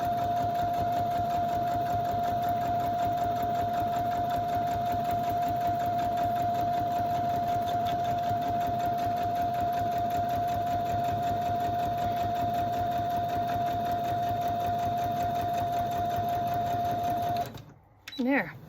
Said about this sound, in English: So I just did the top, and now I'm going to do the bottom, and then that'll be it for the sewing.